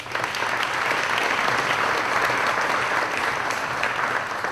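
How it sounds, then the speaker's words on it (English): An audience at a community event applauds its sponsors with steady, even clapping, fairly close and unbroken from start to finish, with no voices standing out. "If we could give them a round of applause."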